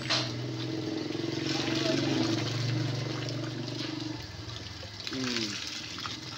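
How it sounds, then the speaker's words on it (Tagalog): Water gushes and splashes from a newly installed jetmatic hand pump, a steady pouring flow that eases off near the end, with a brief squeak of the pump toward the close. "pakita na itong pagbumba"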